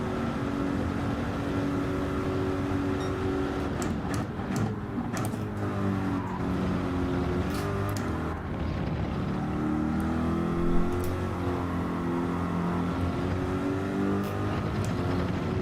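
A McLaren race car in Gran Turismo 7 holds a steady high-speed engine drone, loud and continuous, with shifting harmonic tones as revs rise and fall and a few brief clicks.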